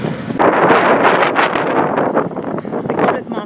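Strong gusting wind buffets the microphone, a loud continuous roar with rushing surges and no pause.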